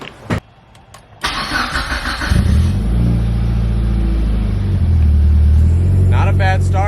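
Mitsubishi Evo 8 starting up after an oil pan install: a brief crank catches into a loud, close engine that settles into a rumbling idle, then revs briefly toward the end.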